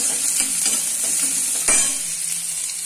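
Cut rohu fish pieces frying in a pan give off a steady, loud sizzle, with a few sharp stirring scrapes and clacks breaking through.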